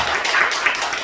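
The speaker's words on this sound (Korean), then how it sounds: "그냥 박수 쳐주세요." A church congregation applauding, a dense, even wash of many hands clapping at moderate distance, brief and without voices.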